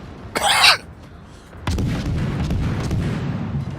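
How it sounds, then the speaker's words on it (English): Warship torpedo launch in a naval video game: a short burst of hissing noise, then after a pause a sudden heavy thump that gives way to a rumbling, crackling wash that lingers to the end. "I'm lobbing in torpedoes near a friendly ship"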